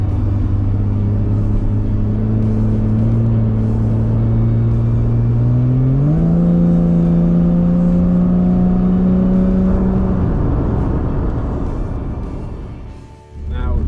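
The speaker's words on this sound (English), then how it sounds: "I get to drive a Porsche Boxster" A Porsche Boxster with the 2.7 engine drones steadily from inside the cabin, its engine tone rising at a gear change and then easing off as the car slows and the engine quiets near the end.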